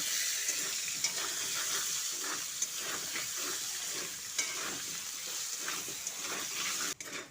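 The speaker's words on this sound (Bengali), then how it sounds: "আলুতে সামান্য পরিমাণে নুন আর হলুদ দিয়ে আলুটাকে লালচে করে ভেজে নিচ্ছি" Cut potatoes fry in hot oil with salt and turmeric for a rohu fish curry, a continuous close sizzle broken by repeated stirring and scraping sounds, without any voices.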